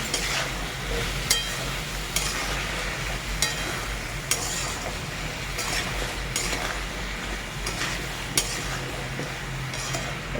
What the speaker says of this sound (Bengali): ভালো করে উপর থেকে নিচে একটু নাড়বো আর এর সঙ্গে জল দেবো